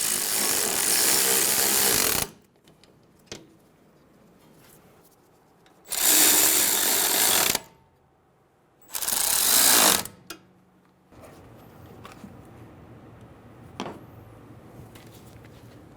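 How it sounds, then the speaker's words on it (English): Strut bracket bolts on a 2011-2014 Hyundai Sonata are snugged down with a power tool, heard as three loud whirring bursts separated by quiet pauses and small metallic clicks. "Go around and snug down all of the bracket bolts."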